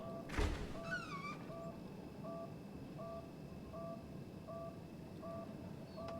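A cat meows in the video game Conarium, a short faint rising meow over a low ambient hum, with a soft thunk just before and a steady beeping pattern repeating in the background.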